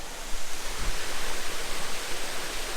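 A small waterfall at the end of a hike, its modest flow making a steady, broadband rushing hiss throughout, close and continuous with no voices.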